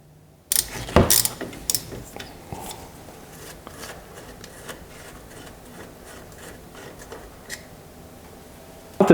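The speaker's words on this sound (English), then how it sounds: "Need to go ahead and remove the caliper bolts." Caliper bolts on the front brakes of a 2005-2010 Jeep Grand Cherokee come loose under a 14mm socket and ratchet, giving a series of sharp clicks and clattering metallic ticks, close and fairly loud, with no talking.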